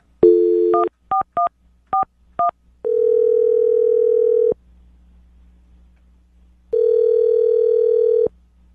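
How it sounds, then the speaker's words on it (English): A phone call placed from a morning radio show: a burst of dial tone, then a quick series of touch-tone dialing beeps, a long ringback tone, a pause, and a second ring, loud and clean. "I'm going to dial the phone number right now, get him on the phone"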